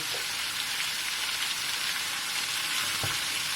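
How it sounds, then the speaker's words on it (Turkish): Chicken sautéing with peppers in an uncovered pan gives a steady, close, even sizzle and crackle throughout, with no voices. "Bu şekilde sotelemeye devam edeceğiz."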